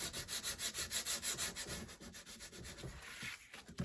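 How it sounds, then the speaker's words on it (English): Sandpaper is rubbed in quick, rhythmic back-and-forth strokes against the edge of a paper piece for junk-journal ephemera, a close, dry scratchy rasp repeating about twice per second, then slowing into a steadier scrub. "rub the sandpaper against the edge, and it just kind of makes it looks like frosted to me"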